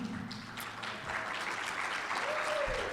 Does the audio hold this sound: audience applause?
yes